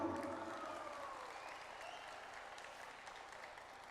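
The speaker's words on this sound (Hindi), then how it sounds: "आपकी भरपूर तालियों में परवेज मंगटू" Audience applause for dholak player Parvez Mangtu at a Fourth of July dinner and entertainment evening of a medical convention, a dense continuous wash of clapping that starts loud and slowly tapers over four seconds.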